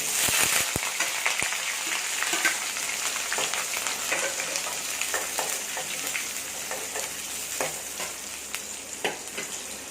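Mustard seeds splutter and small shallots sizzle in hot oil, giving a dense, steady frying hiss scattered with sharp pops and crackles, loudest at the start and continuing throughout at close range.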